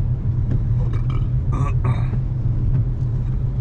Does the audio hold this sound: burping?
yes